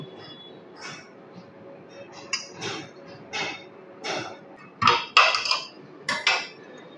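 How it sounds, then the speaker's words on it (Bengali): A spoon knocks and scrapes against a pot while palm kheer is stirred, giving a string of distinct, close metallic clinks that grow louder and quicker toward the end, with quiet gaps between. "ক্ষীরটা আমি দিয়ে দিলাম, দিয়ে একটু আলগা করে এভাবে নেড়ে চেড়ে দেব"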